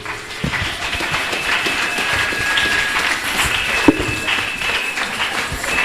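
An audience in a hall greets a singer with steady, continuous applause that stays dense and fairly loud throughout, with a few brighter cheers or whistles on top.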